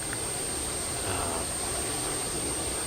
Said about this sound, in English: we're starting engine number 2 now